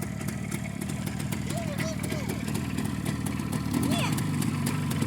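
A motorcycle engine runs at a steady, close idle and swells slightly with a light blip of throttle near the end, while people talk over it.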